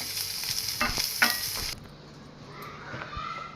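Curry leaves sizzling and frying in a pan with a few stirring scrapes, then the sizzle drops to a quieter crackle.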